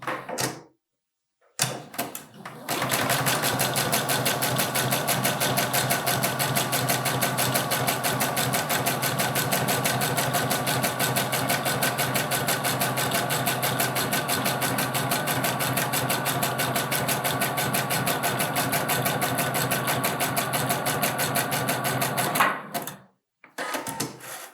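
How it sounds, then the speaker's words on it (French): A sewing machine overcasts the raw edge of a fabric seam, starting with a few clicks and short bursts before settling into a long, fast, steady mechanical chatter and whir, close and fairly loud, then stopping. "Donc là, je vais faire mon surfilage."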